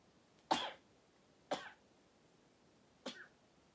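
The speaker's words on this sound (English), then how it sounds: "excuse me for sneezing" Three short, sharp bursts spaced apart, like sneezes or coughs, close by in an otherwise quiet room.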